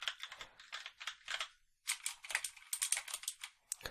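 A mechanical keyboard with brown and blue switches is typed on in quick bursts of crisp clicky keystrokes, close and fairly quiet, with a short pause partway through and no talking.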